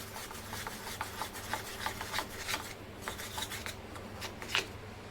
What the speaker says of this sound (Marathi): कॉर्नफ्लॉवर आणि मैद्याला छान फेटून घेऊया.